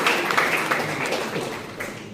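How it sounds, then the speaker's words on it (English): A crowd applauds at an alumni homecoming ceremony, steady dense clapping at moderate level that tapers slightly toward the end. "let's show a round of applause to the ESUG"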